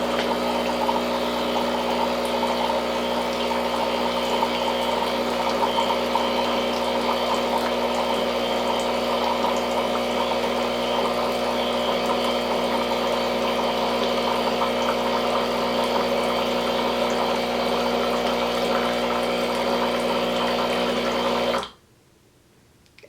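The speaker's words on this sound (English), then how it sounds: "when you hit or you turn the knob right here to hot water, water comes out right here" A Breville Barista Express espresso machine dispenses hot water for an Americano, its pump humming steadily with water pouring for about twenty seconds before stopping abruptly on its own.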